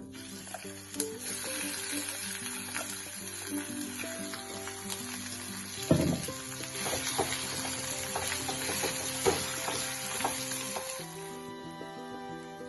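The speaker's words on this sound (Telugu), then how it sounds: "ఇప్పుడు మనం గ్రైండ్ చేసుకున్న మిశ్రమాన్ని వేసుకుందాం" Ground dondakaya (tindora) chutney mixture sizzling and frying steadily in a hot pan with curry leaves, a continuous close crackle with a louder stir or splash around the middle, under a background of music.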